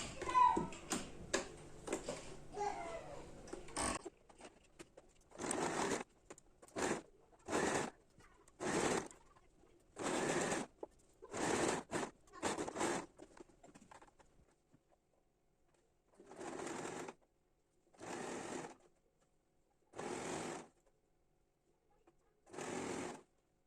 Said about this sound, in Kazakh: Енді 1 сантиметр тігемін.